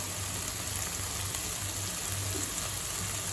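Coriander leaves sizzle and fry in a pan with tomato, tamarind and salt for tomato chutney, a steady soft crackling hiss with no speech.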